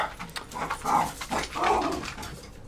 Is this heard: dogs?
yes